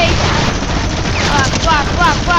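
A minigun fires in a video game, a loud, dense continuous burst of rapid rounds that fills the moment, with voices talking over it.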